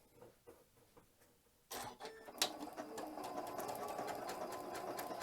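A sewing machine stitches ribbon for a Christmas cracker, starting after a short quiet stretch with a steady, close, fast mechanical whir that runs on to the end.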